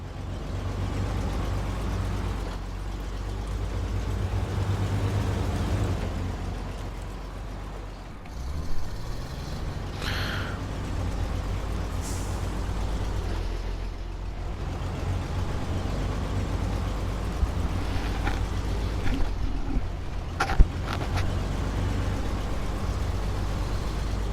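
A Western Star truck drives in the game SnowRunner, set in Alaska. A steady, heavy low engine drone runs throughout with a few brief hisses and knocks, and no voices.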